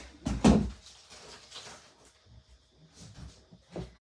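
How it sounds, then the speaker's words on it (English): A bedroom door is opened in a quiet indoor room, with a close knock and thud of the latch and frame near the start, followed by faint rustling and small handling sounds. "Open my door. There we go."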